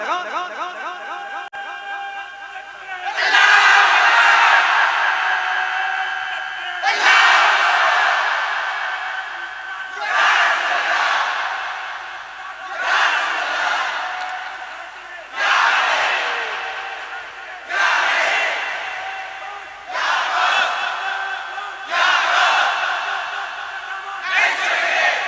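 A large crowd at a Muharram religious gathering shouts a slogan back in unison, with several loud chanted bursts in a regular call-and-response rhythm after a quieter lead-in.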